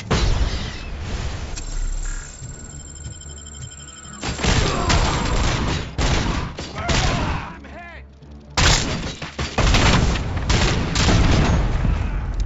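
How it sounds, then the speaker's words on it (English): In the Robocop Rogue City video game, a rocket or grenade blast lands amid loud, continuous gunfire, with heavy booms and thuds layered over dense combat noise. "Whoa, that was a rocket or something."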